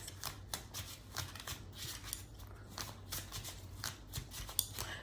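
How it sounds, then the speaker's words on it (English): Tarot cards being shuffled by hand, a quiet, close run of crisp riffling and flicking bursts repeating irregularly with no talk. "I always have my cards in hand, so I like shuffling"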